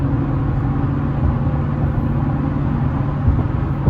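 Steady, loud road and tire roar from inside a Toyota Tundra pickup on Nitto Exo Grappler AWT tires cruising at about 65 mph in sixth gear, a continuous low hum with no talking.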